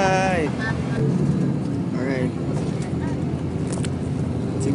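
Inside a moving bus in Hong Kong, a steady low engine drone and road rumble run continuously close by while people speak over it.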